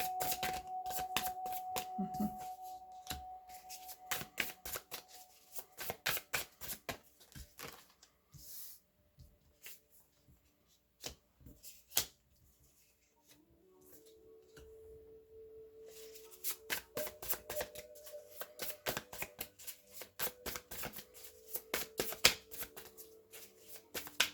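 Tarot cards are shuffled close by in bursts of rapid riffling and flicking, pausing in the middle before a long stretch of fast shuffling, with a faint steady tone humming underneath.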